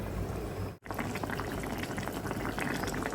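Hilsa mustard curry with coconut and eggplant simmering under a lid, a steady bubbling boil with a brief dropout near the start, then continuous gurgling without voices.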